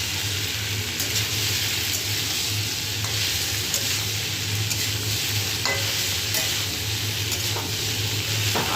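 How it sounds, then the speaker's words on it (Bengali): Boiled potatoes frying and being stirred in a pan, a steady loud sizzle with scraping spoon strokes at irregular intervals, close and continuous with no talk. "এবার আলুটাকে একটু নেড়ে চেড়ে ভেজে নেব।"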